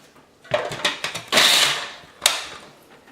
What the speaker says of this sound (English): I'm going to use the food processor.